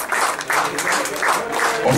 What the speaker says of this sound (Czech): Velký potlesk a velké poděkování.